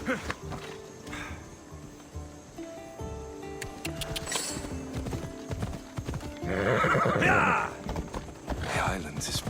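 Horse hooves clip-clop and a horse whinnies in Assassin's Creed Odyssey, the galloping steady and fairly close, with game music and voices talking alongside.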